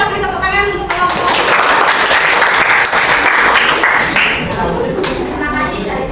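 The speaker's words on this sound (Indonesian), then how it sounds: "kita beri tepuk tangan untuk kelompok" A classroom of students applauds a student group after its science presentation, dense steady clapping filling the room for about six seconds, with a few voices murmuring underneath.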